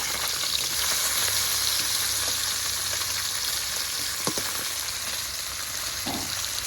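Small puti fish frying in a pan of oil, cooked for lau diye puti macher jhol. A dense, steady hiss of sizzling oil runs close and loud throughout, with a couple of faint clinks and no talk.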